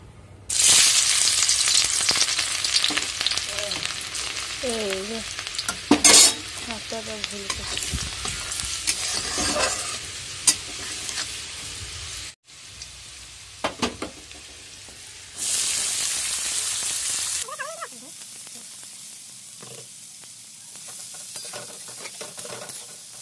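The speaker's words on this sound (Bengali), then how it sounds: "এখানে আলুগুলো একদম লাল লাল করে ভেজে নিচ্ছি, আর আমি কোনো সেদ্ধ করে ভাজি না, ডাইরেক্ট নুন হলুদ দিয়ে মাখিয়ে ভেজে নিচ্ছি" Potatoes rubbed with salt and turmeric fry in hot oil, a loud steady sizzle broken by scraping stirs and clinks of a utensil, with one brief gap and a quieter, softer stretch near the end.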